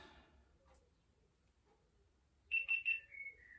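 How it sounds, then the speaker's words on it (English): A GoPro Hero 11 Black camera powering on gives three quick, clear electronic beeps close by, followed by a longer falling tone, after a quiet stretch with faint handling noise. "It's beeped at me."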